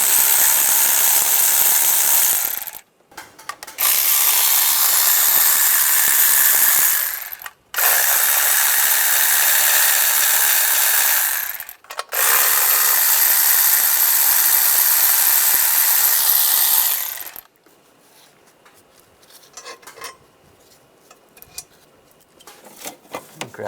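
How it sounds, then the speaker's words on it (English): A ratchet wrench clicks rapidly and steadily in three long runs with brief pauses, loosening a nut on the intake of a 1996-2002 Toyota 4Runner during fuel injector replacement; it sounds close and loud, followed by quieter handling noises. "Take the nut off."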